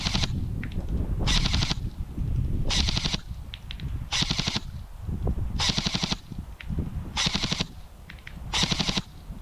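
Zion Arms PW9 Mod.1 airsoft replica firing in rapid full-auto bursts, about six short strings of shots with brief pauses between them, loud and close with no talking.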